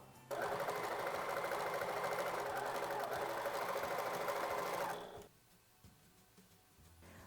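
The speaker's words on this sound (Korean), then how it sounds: "시접 1cm로 옆선 봉제해 주세요" A sewing machine runs in one steady, close burst of rapid stitching for several seconds as it sews a 1 cm side seam on a fleece string bag, then stops, leaving quiet room noise.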